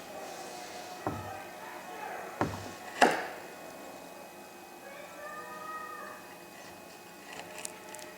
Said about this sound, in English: it does push cut paracord